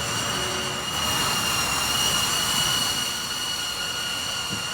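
A steady, whining buzz of a Hover Air X1 Pro Max drone hovers and descends, with tonal motor whine over a broad rushing noise, fairly loud and continuous.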